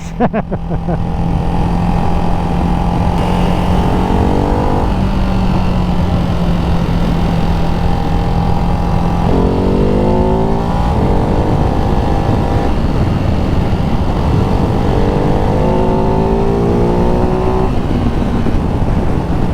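A Ducati Hypermotard 698 Mono single-cylinder motorcycle pulls hard on the road, its loud engine note rising through the gears with brief dips at each shift over constant wind rush.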